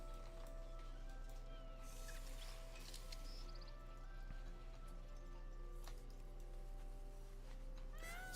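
A pet peacock in World of Warcraft gives a few short cat-like meow calls, faint and spaced apart over a quiet game background with soft clicks.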